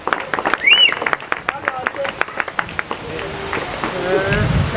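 Audience applause welcoming ministers at a village Jana Sena party gathering, a burst of close rapid clapping that fades into crowd murmur and a few voices.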